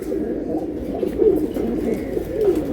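Pigeons at a pigeon market coo loudly and close by, a continuous throaty rolling coo with repeated swells, no talking.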